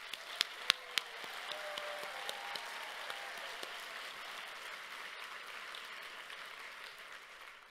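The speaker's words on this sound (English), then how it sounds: "Please join me again in a rousing round of applause" A large audience bursts into sustained applause welcoming a university president back to campus, dense steady clapping with a few sharp individual claps standing out early, then continuing evenly.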